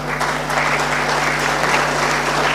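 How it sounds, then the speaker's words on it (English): An audience claps steadily at a BNI Goa region business meeting, a dense, continuous round of applause that stays loud from start to finish with no talk over it. "Please do not stop the claps."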